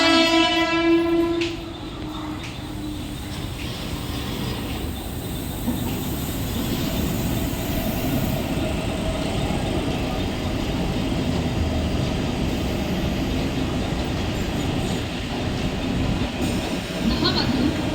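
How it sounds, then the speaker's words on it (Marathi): A Mumbai mini local train pulls into platform 1, its horn sounding at the start before the rolling rumble and clatter of the wagons builds steadily and close, with station noise around it. "प्लॅटफॉर्म क्रमांक 1 पर आई हुई लोकल 10 बजकर 20 मिनट की आने जाने वाली मिनी लोकल है"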